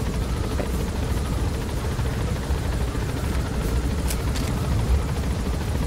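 A helicopter in the Metal Gear Solid V game, a loud, continuous rotor drone with low rumbling thrum held steady throughout, a few faint sharp clicks on top.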